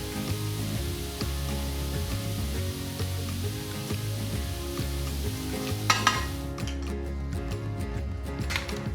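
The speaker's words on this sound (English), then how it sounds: "pan is really hot, so we can start with our onions" Onions sizzling in a very hot pan, a steady loud frying hiss running throughout with a few sharp scraping stirs near the end, no talking.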